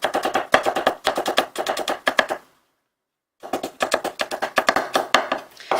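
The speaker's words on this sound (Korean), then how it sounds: "그 후에 다시 채를 썰어줄 거예요" Rapid, steady knife chops strike a cutting board in quick rhythmic runs as garlic slices are cut into thin strips, pausing briefly before the chopping resumes.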